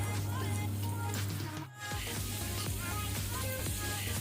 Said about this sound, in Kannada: ಮೀಡಿಯಂ ಫ್ಲೇಮಲ್ಲಿ ಫ್ರೈ ಆಗಲಿ.